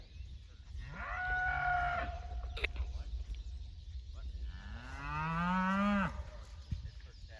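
Cattle low during a cattle drive as a cow mob moves onto a leased farm: two long, drawn-out moos a few seconds apart, fairly close over a steady outdoor rumble.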